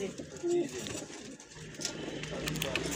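A breeder pigeon coos softly nearby, a short low call under someone talking.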